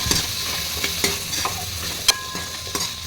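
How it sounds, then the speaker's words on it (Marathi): Potato bhaji stirred and sautéed in a pan, a steady sizzle of frying with a series of sharp scraping and tapping stirs at irregular intervals, close and fairly loud, no voices. "परतून घेऊया. या प्रकारे आपण असं हलवून घेतलंय."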